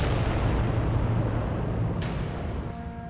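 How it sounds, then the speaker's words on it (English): Four cannons firing in the Warhammer 40k Adeptus Titanicus Dominus video game, a dense, sustained low rumble of heavy gunfire with booms, loud and continuous throughout without speech. "4 cannons. Fire!"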